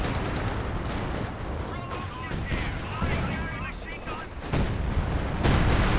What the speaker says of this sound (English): Oh man, howitzer fire coming down